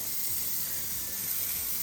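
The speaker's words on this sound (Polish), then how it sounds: "długo pod bieżącą wodą, zimną, musimy chłodzić" Cold water pours steadily from a hose or tap at a stable wash bay as it cools a horse's partially torn leg. The rush is a continuous, even hiss with nothing else over it.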